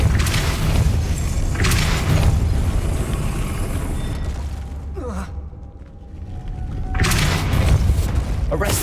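A Depulso force spell cast in the Hogwarts Legacy video game, heard as a loud booming blast with a whooshing sweep, set amid dense game music and effects with other spell bursts nearby.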